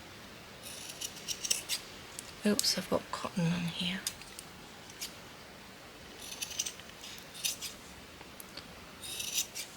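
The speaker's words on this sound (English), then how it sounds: "Let me take my big scissors and..." Large scissors snip and slice through fabric at close range in short bursts of crisp cutting, with quiet, whispery talk in between.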